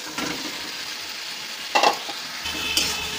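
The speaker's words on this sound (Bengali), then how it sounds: "মশলাটা মোটামুটি কষানো হয়েছে, এবার এর মধ্যে দিয়ে দেব ভেজে রাখা চিকেনগুলো" Fried chicken pieces are stirred into sizzling masala in a pan for Bengali chicken kosha: a steady close-up frying hiss with scraping stirs, one louder clatter and a deeper sizzle near the end.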